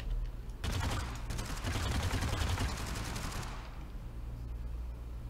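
Guns fired at a video game shooting range, a loud burst of rapid shots running for about three seconds after a short quiet start, then trailing off into low background hum.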